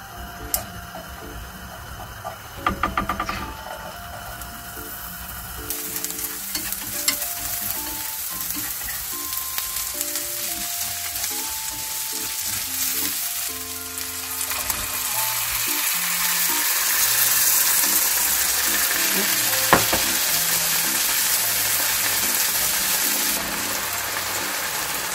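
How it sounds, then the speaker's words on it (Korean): Butter melts and sizzles in a pan, a steady close crackle that grows a little louder and denser partway through, alone without talk. "먼저 버터를 넣고 녹여줄 거예요"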